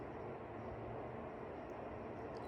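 A Loytio HY1800 air purifier fan runs on setting 1, giving a steady, faint, even whoosh of airflow with no change over the short span.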